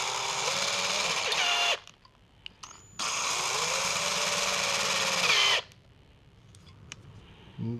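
A power drill whines loudly in two long bursts, grinding steadily into a cast-iron engine block, with quiet pauses between runs.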